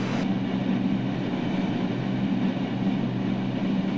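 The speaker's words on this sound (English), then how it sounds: "Manhattan-bound 2 train. The next stop is President Street." A Manhattan-bound New York subway 2 train runs near President Street, a loud, steady, close rumble and roar that fills the whole moment with no voices over it.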